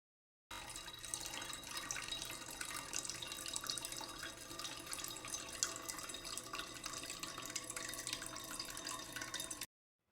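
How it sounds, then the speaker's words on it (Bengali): Lukewarm water pours steadily from a vessel into a pan of Bengali mustard rohu fish curry in a home kitchen, a continuous close splashing trickle that runs about nine seconds and then stops. "ধনেপাতা দিয়ে ভালো করে একটু নাড়াচাড়া করে নিয়ে এতে আমি হালকা উষ্ণ গরম জল দিয়ে দিচ্ছি।"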